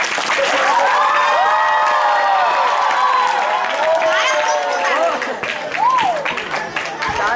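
An audience at a fifth-grade school assembly applauds and cheers after a performance, with loud, continuous clapping and raised voices filling the hall throughout.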